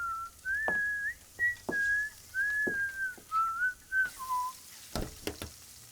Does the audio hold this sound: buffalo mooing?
no